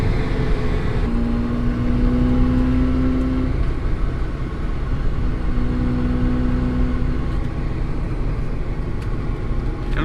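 A 1995 Mazda RX-7 FD with a twin-turbo 13B rotary engine idles gently while warming up, a steady buzzing drone with slight rises in pitch, close and continuous throughout.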